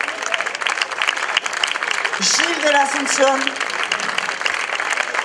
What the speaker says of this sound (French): Je souhaiterais que l'on applaudisse Amélie Guillermet